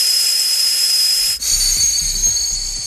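Pressurised air hissing from a boost leak in car intercooler piping, a loud continuous close hiss that breaks off for a split second, then resumes with faint low knocks underneath.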